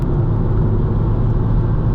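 An Audi S3 8P on the move produces a steady low engine and road rumble from inside the cabin, an even drone that holds throughout with no talk.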